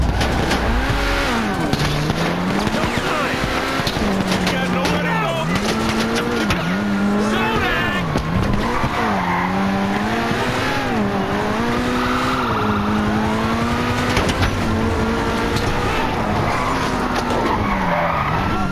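In a video game, a car revs and drives off, its engine rising and falling as tires skid and squeal repeatedly through the run, loud and continuous.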